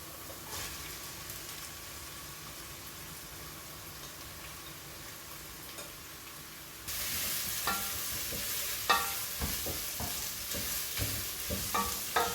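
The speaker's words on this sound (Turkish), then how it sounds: "Şimdi sıra geldi soğanla sarımsağımızı katmaya" Onion and garlic go into a pan of cooked potatoes, peas and carrots for a barbunya bean dish. A quiet simmer jumps to a louder, steady frying sizzle, broken by several spatula scrapes and stirring clicks. No talking.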